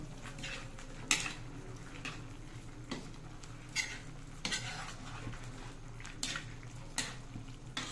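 Chicken adobo cooking in a pot makes faint bubbling and simmering, broken by a series of sharp clinks and scrapes of a utensil against the pot at irregular intervals.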